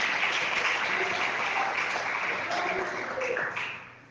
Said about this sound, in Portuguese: engrandece o nome de Jesus com palmas bem forte nessa noite